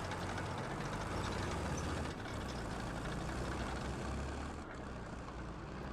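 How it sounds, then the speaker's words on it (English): Loud, continuous roar of an MT-LB tracked armored vehicle driving in the game Squad, with a heavy low engine drone and clattering tracks that stay steady and close throughout, with no talk. "This MTLB is pretty slippery with their tracks, and as you can tell, they're loud as all hell."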